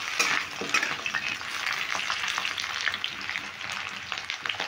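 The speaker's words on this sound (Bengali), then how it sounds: "আলুগুলো দিয়ে আমি একটু ভালো করে ভেজে নেব।" Potatoes frying in oil in a pan for a Bengali cabbage dish, a soft continuous sizzle with crackles and occasional stirring, fairly quiet, no talking.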